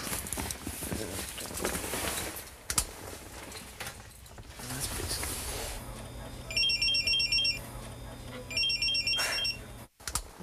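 Electronic alarms going off, a watch, radio and beeper set to wake a sleeper, heard as two bursts of rapid high-pitched beeping over a murky indoor background, with no talk.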